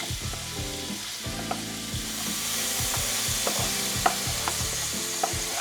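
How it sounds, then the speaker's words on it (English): Garlic and onions fry in oil and butter for butter chicken, a steady close sizzle layered with rhythmic scraping strokes of a utensil across the pan and occasional clicks, with no voices. "To this we are adding our garlic and onions first."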